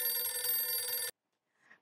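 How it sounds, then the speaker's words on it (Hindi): A telephone bell rings loudly and steadily for about a second in an indoor shop, then cuts off abruptly, followed by a faint brief sound. "अरे बबीता जी का फोन।"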